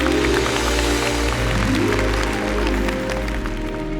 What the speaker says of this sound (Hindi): एक बार चौहान परिवार और उनके स्पेशल मेंबर्स के लिए जोरदार तालियां हो जाए।